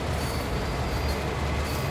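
A train in Train Sim World 2 rolls uphill under throttle, a steady, dense rumble of engine and wheels holding constant throughout with no talk.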